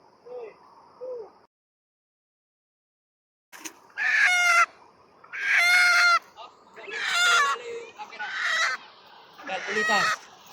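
Nearby chickens cluck softly, then after a short pause a rooster crows loudly several times in a row, with harsh, ragged calls close to the microphone.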